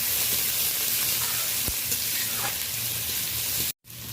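A greens curry with onion fries in a little oil as cumin and coriander powder go in, giving a steady, close, hissing sizzle with light stirring, then cutting off abruptly near the end.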